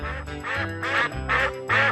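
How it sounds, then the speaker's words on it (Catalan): Ducks quacking at a farm in repeated loud bursts, about four or five calls in quick succession, close by with no talking. "Mireu, ànecs!"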